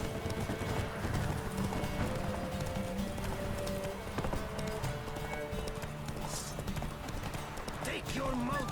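Roach, the horse in The Witcher 3 video game, gallops at full speed with steady, continuous hoofbeats, plus a brief whinny, over dense game music and background voices.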